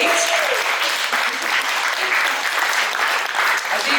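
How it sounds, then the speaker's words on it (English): A round of applause for the MC at a live cooking event, loud and dense clapping that stays steady throughout, with a brief tone at the start. "just a round of applause to the MC, Alan Kariki"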